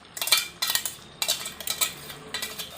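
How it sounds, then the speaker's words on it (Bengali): Chicken sautéed and stirred with sour yogurt in a pan for chicken kosha: four rhythmic bursts of a utensil scraping and clinking against the pan, close and fairly loud. "খুব ভালোভাবে আরও কষাবো মাংসটা আমি"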